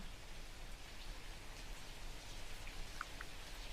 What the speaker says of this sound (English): let's walk around in the rain